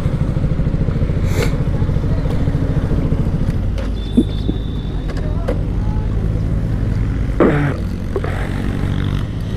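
A motorcycle engine idles steadily close by while the bike is parked at a roadside tea stop during a solo ride toward Parasnath, Jharkhand, with a few clanks and scrapes over the continuous low rumble.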